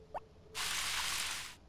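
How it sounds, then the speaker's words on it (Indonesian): Watering can sprinkling crops on a farm in Harvest Moon Back To Nature: one steady hissing pour of water about a second long, following a brief small click, with no talk. "Kita ganti dulu dengan alat siram."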